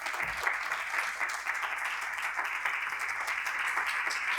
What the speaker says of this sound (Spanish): Un aplauso para Ana, por favor